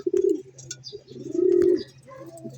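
Racing pigeons cooing close by, a few soft, throaty rolling coos overlapping in an irregular rhythm, with faint chirps in the background.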